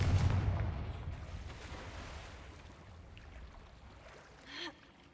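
A Confringo blasting spell from the game Hogwarts Legacy erupts in a loud, close burst at the start, then decays into a long rumbling roar, with a brief swishing flare near the end.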